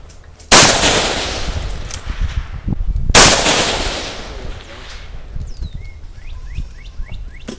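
Two sharp suppressed bursts from a Smith & Wesson 76 submachine gun fitted with a suppressor, each a loud crack trailing into a long echoing decay outdoors, with birds chirping faintly afterward.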